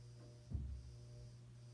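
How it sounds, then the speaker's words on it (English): A Hampton Bay Carousel II 44-inch ceiling fan with white blades gives a steady low electrical hum, quiet and continuous, with a brief soft thump partway through. "The humming that's on this fan actually sounds very similar to the humming sound that some KDKs"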